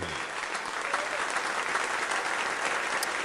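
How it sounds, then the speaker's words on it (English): Audience applause at a live music stream, a dense, steady wash of many hands clapping throughout at moderate volume, with no voices over it. "Thank you for those claps, guys."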